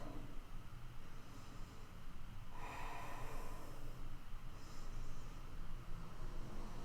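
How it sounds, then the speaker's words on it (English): Slow, deep breaths taken while resting in child's pose during a yoga session, a soft airy inhale swelling then easing out, faint and close with steady room hiss beneath. "just taking 2 rounds of breath"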